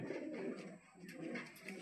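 Pigeons coo softly and continuously at a dealer's loft where pairs of fancy pigeons, including blue birds, are kept, the low murmuring calls overlapping throughout with no talk.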